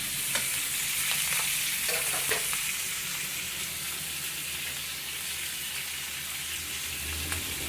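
Cheek meat frying in a hot pan gives a steady, close sizzle and crackle that holds throughout with no talking.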